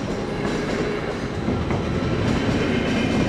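A train passes through Rákosrendező station in Budapest with a continuous loud rumbling roar of wheels and cars, steady and close throughout, with no talk over it.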